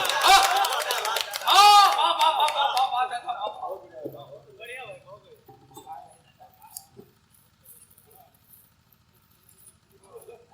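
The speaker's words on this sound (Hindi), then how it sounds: "एक बार जोरदार तालियां बजा दीजिए।" Audience at a patriotic Hindi poetry recital breaks into loud clapping that peaks briefly and then thins out into scattered claps and quiet murmurs.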